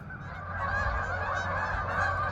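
A large flock of snow geese honks continuously at a lake in Malone, New York, during the morning migration. The many overlapping, fairly loud calls form a dense, unbroken chorus.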